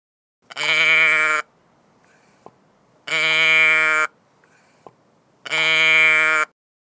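Sheep on a farm bleat three times in long, loud, evenly spaced calls, each close and clear with short quiet gaps between them.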